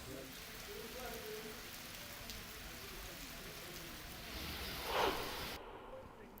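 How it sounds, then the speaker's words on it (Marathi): Heavy rain pours down at night in Dharashiv district, a steady hiss of falling water that swells briefly with a louder splash near the end. "धाराशिव जिल्ह्यामध्ये रात्रीपासून पावसाची कोसळधार सुरू आहे."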